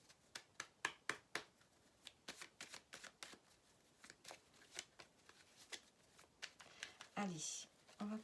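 Tarot cards are shuffled in a quick run of crisp riffling flicks and slaps, close and fairly soft, with a denser flurry of cards near the end.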